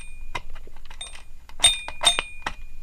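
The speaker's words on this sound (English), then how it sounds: "it just adds a little bell to the single box there" Small bell on a TOMY Plarail toy signal box rings in a few light, bright metallic dings, close and fairly soft, with brief clinks between and no talking.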